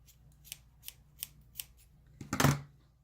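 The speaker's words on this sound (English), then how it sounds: "snip a little hole in this. See if we can snip it properly." Small scissors snip a little hole in a sock being made into a sock kitten: five quick, evenly spaced close-up snips, then a louder, longer crunching cut at the end, with a faint low hum underneath.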